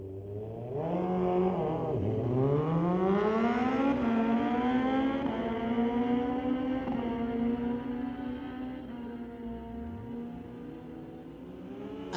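Suzuki and Kawasaki motorcycles launching side by side in a street-legal drag race, engines rising in pitch through repeated gear changes, loud and sustained before fading toward the end.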